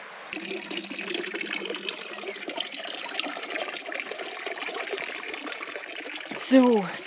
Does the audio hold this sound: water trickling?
yes